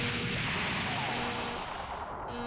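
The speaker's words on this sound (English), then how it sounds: "A massive explosion shook the school building." Audiobook sound effect of a massive explosion shaking a school building: a loud, dense roaring blast that fills the whole stretch without letting up, with no voices over it.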